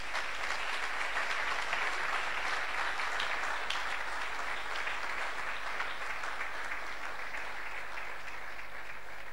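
A church congregation applauds in praise, a steady, dense wash of clapping that fills the room continuously from start to finish with no voices standing out.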